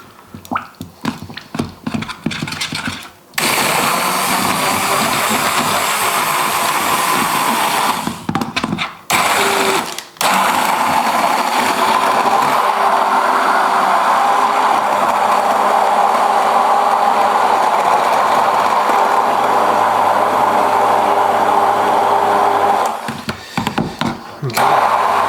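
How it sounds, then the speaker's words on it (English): A hand blender whirs loudly and steadily while whipping white chocolate, running in long continuous stretches broken by a few brief pauses near the start and end. "At this point I'll be using my hand blender"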